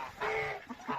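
Poultry chickens give brief soft clucks at close range, a few quick notes in a second-long moment with faint background noise and no talking.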